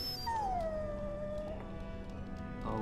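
A dog in the video game Dragon Age Origins, at Castle Cousland, lets out one long, drawn-out whimpering whine that slowly falls in pitch, heard clearly against a low ambient hum.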